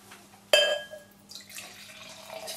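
Durham Brewery Temptation, a 10% Russian stout, poured from a bottle into a glass: a sudden clink and splash followed by a steady glugging, fizzing pour, close and alone.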